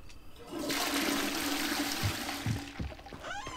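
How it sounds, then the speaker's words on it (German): A toilet flushes in the video game Hogwarts Legacy, a loud rushing gush of water that swirls for a few seconds, then drains away with gurgles and trickles. "Wasserspülung, ja."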